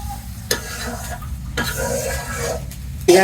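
Potatoes frying in a pan, with a soft background sizzle and several sharp scrapes and clinks from stirring with a utensil against the metal, a louder clatter at the end.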